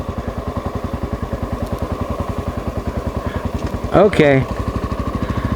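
1995 Honda XR600R single-cylinder motorcycle idles with a steady, even thumping pulse near by, a short spoken word breaking in toward the end.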